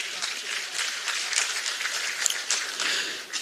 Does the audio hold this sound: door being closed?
no